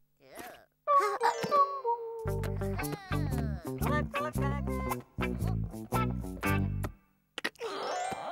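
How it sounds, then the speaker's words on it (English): A cartoon doorbell in a Maisy Mouse episode chimes with a ding-dong tone, followed by a long run of bright, bouncing musical notes before a brief closing flourish. "I wonder who rang the bell."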